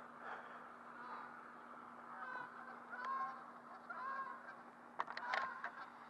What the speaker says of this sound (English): Can y'all hear the geese?